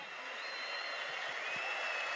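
Fenerbahçe supporters applaud as goalkeeper Fernando Muslera climbs to the podium, a steady, dense wash of clapping from a large stadium crowd that holds at one level throughout.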